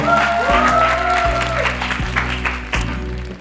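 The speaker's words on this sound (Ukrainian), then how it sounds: "Оплески!" Audience applause on a Ukrainian song-guessing TV game show, steady clapping from a studio crowd sustained over rhythmic music with a pulsing beat, fairly loud throughout.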